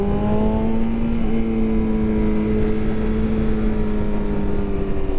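A 2026 BMW S 1000 RR motorcycle ridden through city traffic in Medellin, its engine droning loudly and steadily with gently shifting pitch, close up and continuous, no voices.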